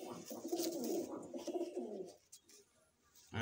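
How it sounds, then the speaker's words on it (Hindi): Madrasi pigeons coo softly and close by in a burst of throaty, rolling calls lasting about two seconds, then fall mostly quiet. "ये है मद्रासी कबूतर"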